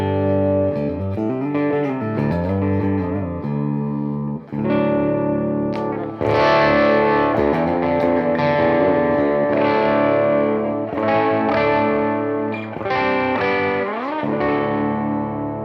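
Schecter Sun Valley Super Shredder electric guitar with mid-forward pickups played through a PRS MT100 amp, loud and distorted, a clean-ish intro phrase building into sustained saturated chords and lead notes, no talking.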